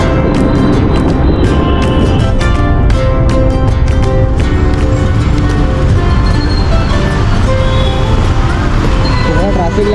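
Road traffic builds up on a rough road with roadwork nearby, a steady loud rumble of engines and passing vehicles with scattered clicks and knocks, while people talk over it.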